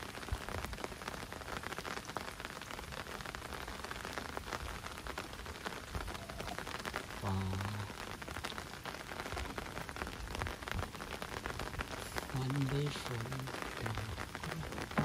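Steady rain falls hard on surfaces, a dense, even hiss and patter throughout, while a voice speaks briefly underneath partway through and again near the end.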